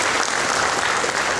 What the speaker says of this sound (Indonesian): Tepuk tangan untuk PPNI.